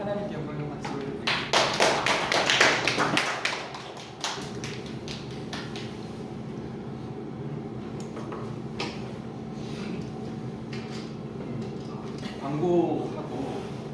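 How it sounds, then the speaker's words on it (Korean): A church congregation bursts into applause during a Christmas-season praise service, loud clapping for a couple of seconds before it fades into room murmur and a speaking voice. "하나님께 영광을 박수를 드립니다"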